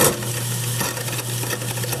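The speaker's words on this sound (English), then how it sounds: "Sounds like there's something in the garbage disposal that will need to be looked at." Continuous harsh grinding and rattling, with a low hum that cuts out briefly then resumes, like something hard caught in a garbage disposal.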